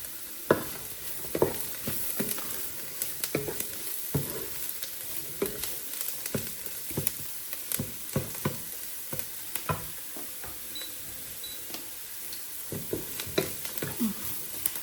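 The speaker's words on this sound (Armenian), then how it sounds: "դրա համար թող ինքը մի փոքր տապակվի" Mushrooms sizzle steadily in a pan while a utensil stirs and scrapes in irregular taps, fairly quiet and close, with no voices.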